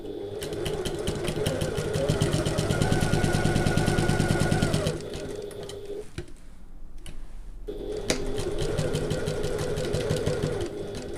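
A sewing machine runs at regular stitch length on a handbag, fast even stitching for about five seconds, a brief stop, then another steady run.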